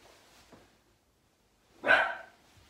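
A dog gives one sharp, loud bark at a distance in a quiet room, preceded by a couple of faint muffled sounds.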